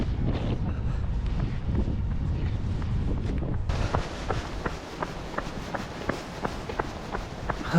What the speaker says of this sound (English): it's getting a lot more windy now as we start to come round the coast